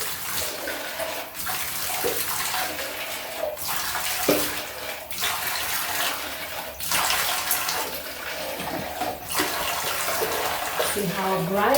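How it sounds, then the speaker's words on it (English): Water runs steadily from a tap to rinse a bathtub after cleaning off soap scum with a homemade cleaner, giving a continuous close splashing rush that swells and dips slightly. "I'm just going to rinse."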